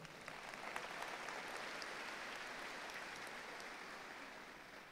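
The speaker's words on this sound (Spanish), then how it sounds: "Un aplauso para Jonger." Steady applause from a gathered audience fills the whole stretch, a dense wash of many hands clapping at an even level with no voices on top.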